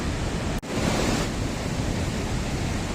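The upper falls at Greeter Falls, Tennessee, pour with lots of water, giving a steady, loud, broadband rush that fills the scene without pause apart from one brief dropout.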